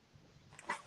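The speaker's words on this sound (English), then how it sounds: "What is the barking dog's name?" A Pomeranian dog gives a brief, faint yelp or bark near the end, alone in the background with no talking over it.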